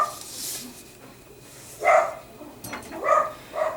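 Outdoor dog barking: three separate barks spaced a second or so apart, moderately loud and somewhat distant, with quiet gaps between them.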